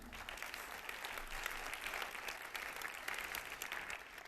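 A conference audience at a BBVA pension-planning forum claps together, a dense, even wash of applause that holds steady throughout at a modest level, with no voices above it.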